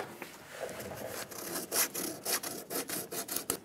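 Sandpaper rubs back and forth over cured Bondo body filler on a replacement cab corner of a 2001–2006 Chevrolet Silverado 2500, a close rhythmic rasping of short strokes, no talk.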